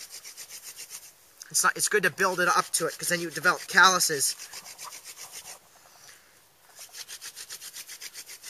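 A wooden hand drill spins in quick, rhythmic back-and-forth rubbing strokes, close and steady, pausing briefly while someone talks over it.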